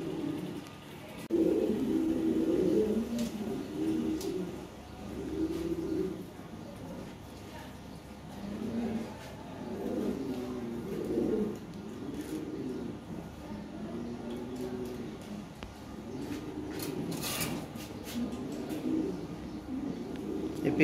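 Lahori pigeons coo softly at close range in repeated rolling phrases, with someone talking intermittently over them.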